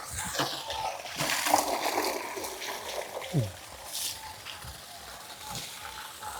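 Water splashes and trickles as it is poured over a person washing their hands and feet outdoors, arriving in irregular bursts with gurgles and drips, while voices talk faintly in the background.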